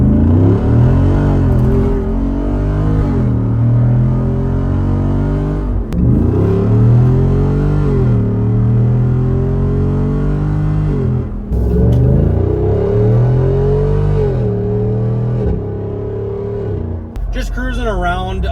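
Ford Bronco Raptor engine launching from a stop, loud and close, each pull rising in pitch before shifts break it into several climbing surges across the run, with the rumble holding steady in between.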